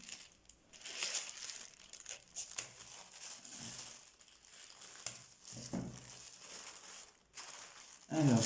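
A crinkly gift pouch tied with raffia being opened by hand, close, soft crinkling and rustling in uneven bursts with brief pauses, ending in a louder rustle.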